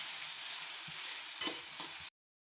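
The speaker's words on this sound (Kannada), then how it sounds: "ನಾನು ಬೇಯಿಸ್ಕೊಂಡಿಲ್ಲ, ಹಾಗೆ ಆಯಿಲಲ್ಲೇ ಫ್ರೈ ಮಾಡ್ತಾ ಇದ್ದೀನಿ." Grated raw potato frying directly in hot oil for an egg puff filling, a steady close broadband sizzle with a couple of brief stirring scrapes, cutting off abruptly after about two seconds.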